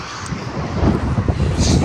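Gusty wind buffets a microphone outdoors, a steady low rumble that swells slightly near the end, with no speech.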